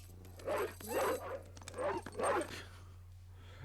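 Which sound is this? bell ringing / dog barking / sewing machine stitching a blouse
dog barking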